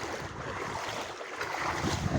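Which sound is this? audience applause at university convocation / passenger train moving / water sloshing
water sloshing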